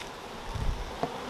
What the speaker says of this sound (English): Some of my blue bees that I've marked are working this side.